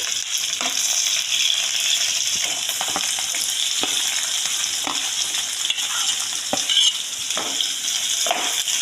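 Whole garam masala and green chilies fry in oil with a loud, steady sizzle close by, while a utensil scrapes and taps against the pan every second or so.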